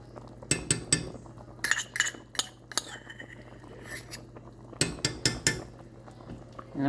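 Spoon stirring a tablespoon and a half of ketchup into Jamaican-style oxtails in a pot, sharp clinks of metal against the pot in short bursts, close up, no talk.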